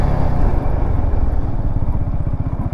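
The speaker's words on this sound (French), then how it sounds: "Maintenant, on va se tester le freinage arrière." A Peugeot XP400 GT scooter's engine drones steadily with a clattering, pulsing mid-range note while riding during a rear brake test, close and continuous with no talk.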